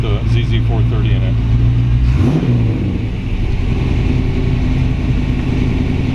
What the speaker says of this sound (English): 304 stainless series mufflers on it, which are a great sound.